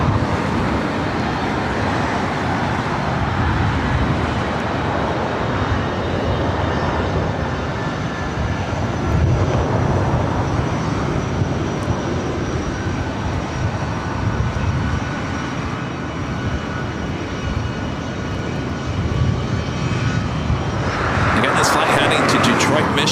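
A jet airliner taxiing and taking off at LAX, heard as a loud, sustained engine roar rumbling low and broad for a long stretch, rising again near the end, with radio talk from air traffic control mixed over it.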